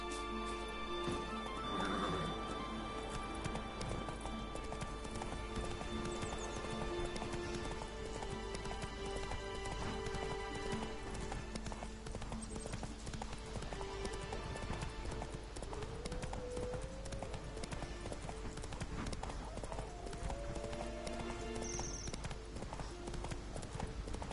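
Horse hooves clip-clop steadily through the whole stretch, with occasional whinnies, as Roach gallops in The Witcher 3 in Skellige, set against a constant layer of game ambience and music.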